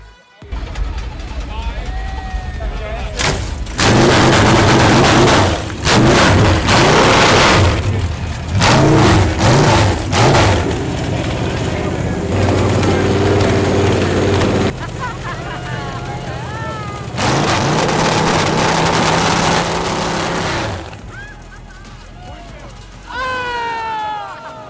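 An engine-powered margarita machine fires up loudly like a motorcycle, sounding in several roaring bursts that rise and cut off between stretches of quieter running, with voices heard in the gaps.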